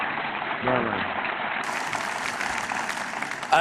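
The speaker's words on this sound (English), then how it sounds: "Somebody ought to applaud both of them here." An audience at an AIPAC conference applauds, a broad, moderate wash of clapping across the hall with a voice speaking over it.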